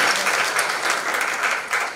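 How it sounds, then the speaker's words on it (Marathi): Steady applause from an audience at a Marathi film trailer launch event, dense and continuous clapping close by, filling the whole moment without voices. "तेजस्विनी आणि वर्धासाठी सुद्धा जोरदार टाळ्या"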